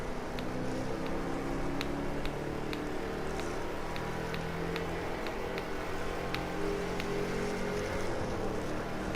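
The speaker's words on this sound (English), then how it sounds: "Picking up speed, lovely noise from the V8." V8 engine of a vintage touring car accelerating, a steady, close, rumbling drone with faint regular ticking layered over it.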